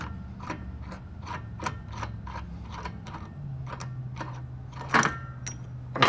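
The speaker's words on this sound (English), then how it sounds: "back here to take them off, we're just going to undo this nut" A nut on a weight distribution hitch being undone with a ratchet gives a run of evenly spaced metallic clicks, close and crisp, ending with a couple of louder clanks.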